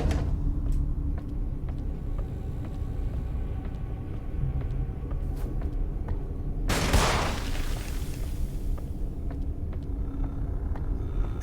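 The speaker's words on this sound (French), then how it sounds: "Décevante comme explosion." A muffled explosion in the horror video game In Sound Mind, a sudden broad burst over a constant low rumbling ambience, decaying over a few seconds, with no talking.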